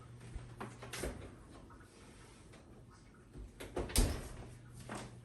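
A bowl of no-knead bread dough goes into an oven and the door shuts, a few faint, muffled clunks and knocks in an otherwise quiet room, the firmest thump near the end.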